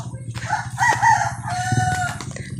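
A rooster crows loudly with a long, wavering call, followed by a second crow, over a steady low hum in the background.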